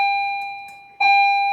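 A bell rings with a clear sustained electronic tone, fading, then striking again louder about a second later and holding.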